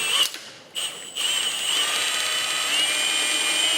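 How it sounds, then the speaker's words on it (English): An electric drill bores a hole through a guitar pickguard for a killswitch, a steady high-pitched whine that starts after a brief hesitation and then runs on, close and loud, with no talking. "I'm just gonna drill a hole in this pick guard here"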